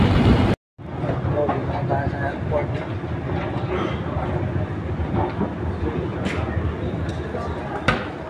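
Riding aboard a train headed to the airport, the carriage gives off a steady rumbling rail noise throughout, with a person speaking over it.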